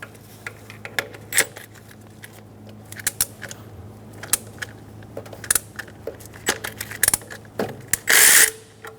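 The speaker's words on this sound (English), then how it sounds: "Using a 12mm socket, loosen the 2 nuts for the power steering pump." A 12mm socket wrench loosening the power steering pump nuts on a 1994-1997 Honda Accord 2.2L four-cylinder gives irregular clicking ratchet bursts and metallic clinks, close and with no talk, ending in a louder rattling burst.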